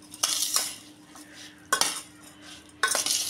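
A spoon stirs sugar into a mixture of lemon juice and chili in a bowl, giving three separate bursts of clinking scrapes against the dish with quiet pauses between them.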